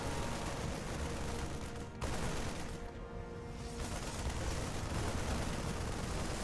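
Marines in StarCraft II firing on a Protoss Nexus, a dense, continuous rattle of rapid gunfire with booming impacts, loud and sustained with a brief dip partway through.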